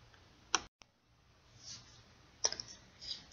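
Computer mouse clicks on a Save button in an accounting program, a few sharp, quiet clicks spaced apart in a silent room.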